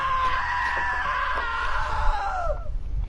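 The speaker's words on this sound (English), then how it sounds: "Now that was a great scream." A woman's long, drawn-out scream in the video game What Remains of Edith Finch, loud and close, holding for about two and a half seconds before trailing off over a low background rumble.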